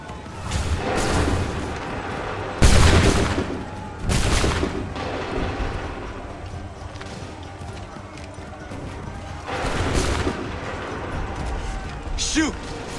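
A musket volley in the Assassin's Creed 3 video game cracks out as a loud crash amid battlefield noise, with more scattered booms later, shouted voices and galloping hooves over the din.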